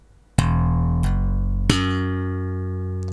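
Three plucked, percussive bass guitar notes played slap style, an open E slapped then hammered on, each with a sharp snappy attack and the last one sustaining and fading slowly.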